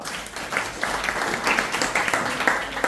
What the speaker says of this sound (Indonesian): Kasih tepuk tangan lagi dong.